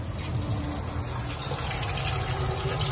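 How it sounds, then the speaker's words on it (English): Water gushes steadily from the jets of a skiff's live well, which have not been used in a long time and may be partly clogged; a continuous close splashing rush over a low pump hum, with no talking. "Water's coming out here."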